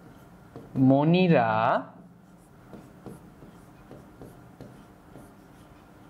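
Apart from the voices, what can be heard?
writing a mnemonic by hand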